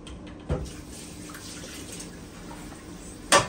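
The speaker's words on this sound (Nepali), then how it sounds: "अब मेरो काम भनेको भाँडा माझ्ने।" Tap water runs steadily at a sink during dishwashing, a soft continuous wash with two brief louder clatters or splashes near the start and end, no talking.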